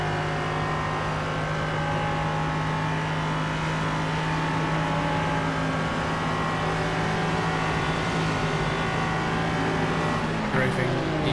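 A 2031 Porsche GT3 race car in a racing video game, its engine droning steadily and loudly throughout at a sustained pitch, with talk over it.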